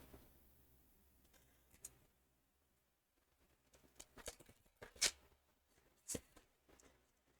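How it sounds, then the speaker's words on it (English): Oracle cards being shuffled by hand, soft scattered papery flicks and taps with a few sharper snaps, quiet and close with pauses between bursts. "shuffling again to see which ones of those are more important"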